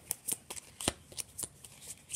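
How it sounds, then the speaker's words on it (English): A deck of playing cards being shuffled, a quick run of crisp riffling bursts with one louder snap near the middle, close and alone without talk. "I'm going to shuffle the deck"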